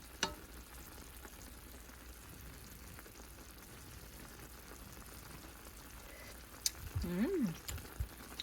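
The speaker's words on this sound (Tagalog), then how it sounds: "Haluin natin ng husto." Pork humba with saba bananas bubbles and sizzles in a pan as it is stirred, a steady close frying hiss with a few utensil clinks and a brief tonal squeak near the end.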